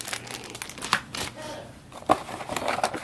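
Plastic and paper packaging crinkles and tears while a Kensington Pro 2.4 GHz wireless keyboard is pulled out of its box, with irregular rustling and a few sharp crackles up close.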